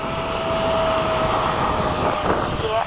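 BAE Hawk jets in evening formation beginning a slow takeoff roll, engines producing a loud steady whine and roar heard from inside the cockpit, with a high tone holding constant throughout.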